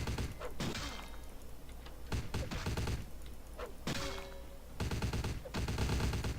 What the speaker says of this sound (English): It's a shotgun. At this close range,